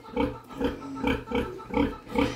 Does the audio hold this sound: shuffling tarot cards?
no